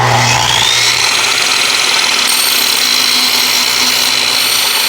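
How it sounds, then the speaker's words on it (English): A saw fitted with a Tenryu blade cuts through an Aztec trim piece, giving a loud, continuous high-pitched whine with a steady grinding roar that holds without a break. "Today I'm going to be cutting an Aztec trim piece with a Tenryu Saw Blade in SL25572."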